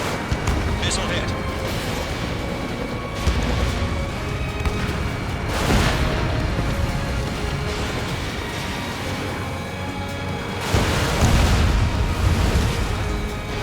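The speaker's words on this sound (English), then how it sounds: "Missile hit." Missile explosions in the Ace Combat 7 jet combat game, with heavy booming bursts near 6 and 11 seconds over a constant roar of engines and battle noise, while radio chatter plays underneath.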